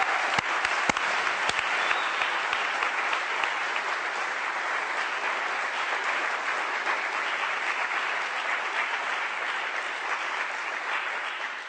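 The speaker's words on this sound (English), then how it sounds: "we should applaud that" Sustained applause from an audience at a public talk about Bradley Manning's attorney, dense even clapping with a few sharp individual claps at the start, continuing loud and unbroken throughout.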